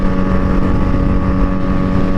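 Honda Magna motorcycle cruising along, its steady engine drone mixed with heavy wind rush over the microphone, loud and continuous with no pauses.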